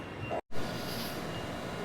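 Riding aboard a rapid train bound for Myoko Kogen, Japan, a steady interior rumble and hiss fills the cabin, broken by one abrupt, brief dropout before the continuous running noise resumes.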